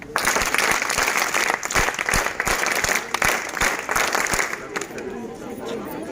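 A crowd of scouts and guides breaks into welcoming applause, a loud, dense patter of many hands with sharp individual claps standing out, easing off toward the close amid light chatter.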